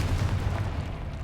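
A Confringo fire spell blasts in Hogwarts Legacy, a loud, booming burst with a heavy low rumble that rolls on and slowly fades.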